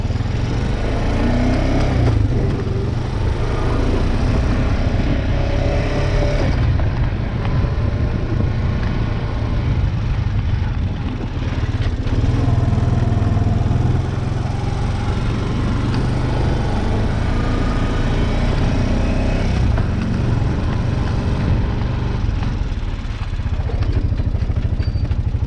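A lawn mower engine runs steadily outdoors in cold, snowy weather, a constant mid-pitched drone that holds at an even level for the whole stretch without pauses or talk.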